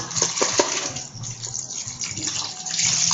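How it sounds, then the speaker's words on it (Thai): Cold water runs into a mixture while clear slime is being made, giving a steady, close splashing and gushing pour that continues throughout. "มันก็จะใส่น้ำเข้าไป เป็นน้ำเย็น"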